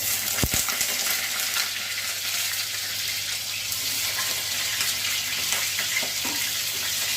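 Pointed gourd (potol) frying in a pan over a dried red chilli tempering, with a continuous close hiss of sizzling and a few soft clicks from stirring.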